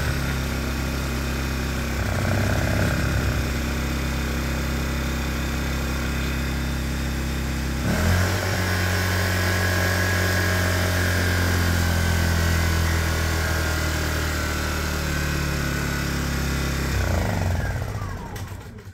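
A Honda EU1000i inverter generator runs steadily with a humming engine tone, changing pitch around the eighth second as the load or speed shifts, then cutting out near the end.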